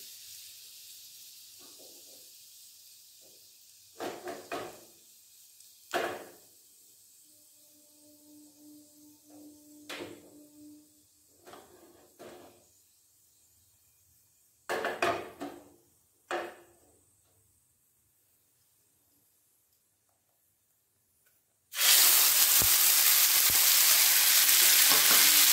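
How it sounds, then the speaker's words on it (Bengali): Asafoetida hits hot white oil while making the pea filling for koraishutir kochuri. First come quiet stretches with occasional clanks of pans and utensils, then a sudden, loud, sustained sizzle bursts up and continues to the end. "তেল গরম হয়ে গেছে, হিং দিয়ে দেবো।"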